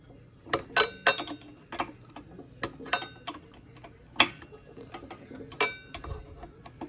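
A 7/16 wrench working loose the nuts on a push mower, giving a scattered run of sharp metallic ratcheting clicks and ticks at close range, no talk.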